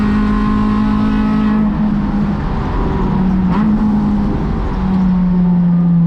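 A race car engine at Sonoma Raceway drones loud and close during a race, its pitch climbing, dipping briefly at a gear change near two seconds and again before five seconds, then settling into a steady high hum.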